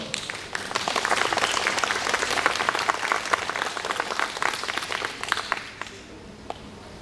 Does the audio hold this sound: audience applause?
yes